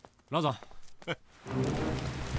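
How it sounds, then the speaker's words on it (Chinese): Rain falls outside as a steady, moderate hiss that sets in after a short spoken phrase and continues to the end. "外面下雨了"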